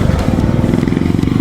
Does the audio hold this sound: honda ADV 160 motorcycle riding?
yes